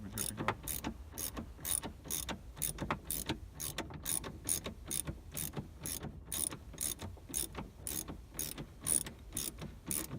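Rapid rhythmic clicking of a ratchet tightening a fastener on a Cadillac ATS window regulator, close and crisp, with quick bursts of clicks and brief pauses between strokes.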